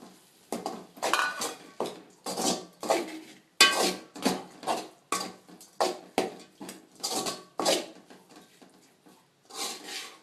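Cooked rice being mixed into a tomato masala in a metal pan for South Indian tomato rice, with a spoon scraping and clanking against the pan in a steady series of close, distinct strokes and no talking.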